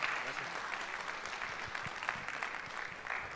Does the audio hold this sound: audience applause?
yes